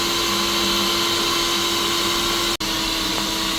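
A Cafemasy forced-air coffee roaster roasts beans with a loud, steady fan-driven roar and a constant hum, interrupted once by a brief sharp break, heard up close without talk.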